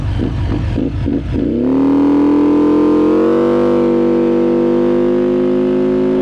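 A Benda Chinchilla 350 cruiser scooter with a CVT starts with a few rapid sputtering pulses, then settles into a loud, close engine drone that climbs in pitch as it revs and holds a steady hum.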